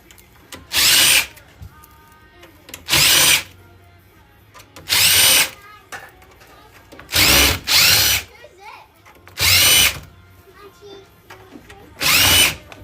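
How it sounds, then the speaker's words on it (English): A power drill backs screws out of a scrap desktop computer case, giving six loud, close, short whirring bursts of about a second each, separated by quieter gaps of handling noise. "Start popping these screws out."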